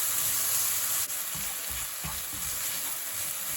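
Chopped onion and garlic sautéing in a pot give off a steady, close hiss of frying, with soft stirring thumps and scrapes now and then.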